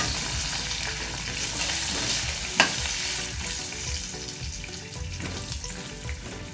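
Puffed rice chivda mixture with lemon juice being stirred in a pan, a continuous soft sizzle and scraping churn running throughout with one sharp clink near the middle, no voices.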